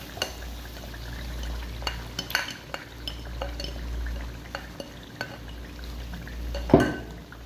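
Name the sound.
stirring and frying white urad dal with spices in pot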